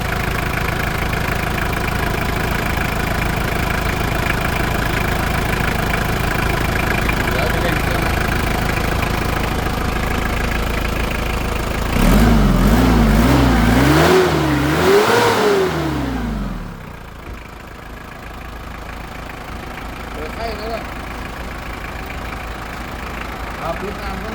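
Mitsubishi Strada 4x4 pickup engine idling steadily close by, then revved in a few rising and falling bursts before settling back to a quieter idle, loud and unaccompanied by clear talk.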